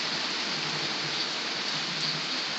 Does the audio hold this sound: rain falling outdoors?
yes